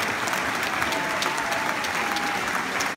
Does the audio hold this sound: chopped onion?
no